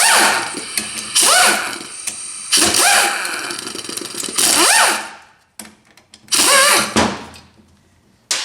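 A power tool zips out 10mm bolts from the pump of a 4R70 transmission: four loud, close bursts of whirring with rising pitch, separated by short pauses.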